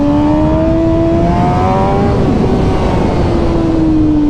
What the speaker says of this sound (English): Power wheelie right now.